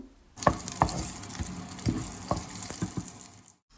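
Tempering seeds and chillies frying in oil in a kadai, a steady, close sizzle with scattered crackling pops and scraping stir sounds, ending abruptly.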